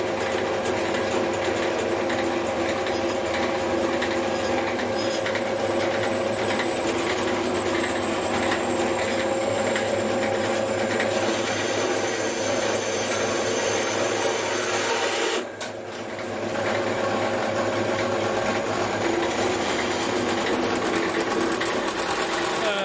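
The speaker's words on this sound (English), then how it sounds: "One of the problems with this bandsaw, it likes coming off the pulleys." A bandsaw in a home garage workshop, one that tends to throw its blade off the pulleys, runs with a loud, steady mechanical drone that dips briefly partway through before carrying on.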